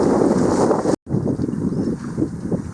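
Strong wind gusting across the microphone aboard a boat coming into a marina slip, a loud continuous roaring buffet with a brief dropout, no speech.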